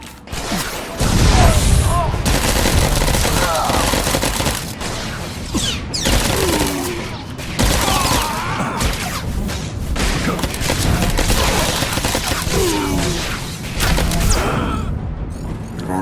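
Blaster fire rings out in the video game Star Wars: The Old Republic, with repeated loud shots and zaps, booming impacts and mechanical effects over a constant battle din, and brief character voices mixed in.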